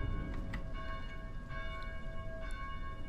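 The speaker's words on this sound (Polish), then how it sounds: "Please help us silence these bells." Belfry bells ringing in the video game Dead Island, a steady sustained peal of overlapping metallic tones over a dense low rumble, filling the whole stretch without talk.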